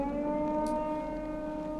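Siren Head's wailing siren in a horror video game, a steady sustained electronic drone holding several layered tones, moderately loud and alone, with a brief hiss partway through.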